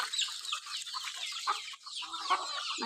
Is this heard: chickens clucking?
yes